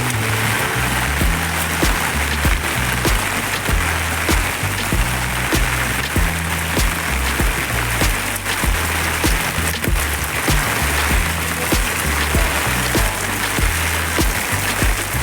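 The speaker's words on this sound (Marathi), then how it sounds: "तुफान पाऊस पडतोय डोंबिवलीला आहे बघ." Heavy monsoon downpour in Dombivli, a dense, loud hiss of rain drumming on surfaces close by, steady throughout with low rumbling underneath.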